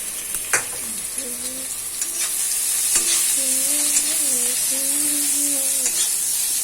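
Onions sizzle and crackle steadily in a hot pan with a constant bright hiss, while a spoon stirs and taps against the pan now and then.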